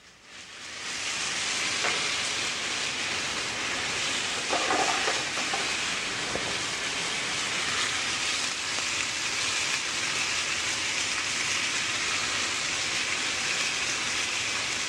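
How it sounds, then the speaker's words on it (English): Fish fillets sear in a hot pan with a loud, continuous hiss and crackle, rising quickly at the start and then holding steady and close throughout. No one talks. "After searing on one side, the fresh herbs are added."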